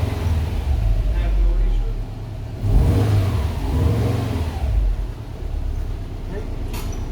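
A 2016 Subaru WRX STI engine revs and pulls away, a steady mid-pitched rumble with a louder surge midway, close by and running under a voice.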